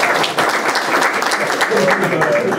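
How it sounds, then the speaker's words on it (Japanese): An audience at a monthly lecture meeting with an ambassador applauds steadily and fairly loudly, clapping mixed with a voice speaking over it. "拍手お願いします。"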